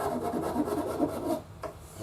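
A Shinto rasp smoothing the wood of a bass guitar neck, a run of quick, close scraping strokes that stop abruptly, followed by one last short rasp.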